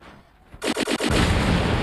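Machine-gun fire in the robot combat game War Robots opens with a few quick stuttering shots, then becomes a loud, continuous roar of rapid fire close up.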